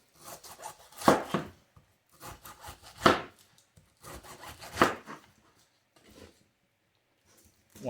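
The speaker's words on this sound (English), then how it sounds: "To cut the pineapple, we can begin at the bottom, which is usually the most ripe because the pineapples are sitting upright, and just make slices" A knife slicing through a pineapple, a series of crisp, scraping cuts in uneven bursts, each stroke rasping and fibrous, close and fairly clear with quiet gaps between.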